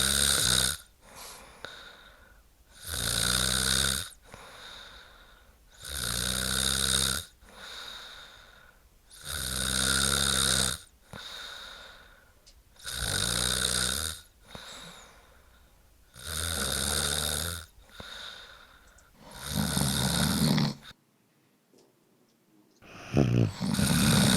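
A woman snores loudly and steadily, about eight harsh, snorting rattles in a regular rhythm that are close and dominant before a brief near-silent gap at the end. No talking.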